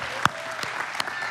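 Brief scattered applause from a live audience greeting a speaker walking in, a few sharp claps standing out over a soft, steady patter of hands.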